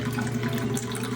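Unfermented beer wort draining slowly from a brewing tank into a vessel, a steady running-liquid rush with a low humming tone beneath, close and continuous with no talk.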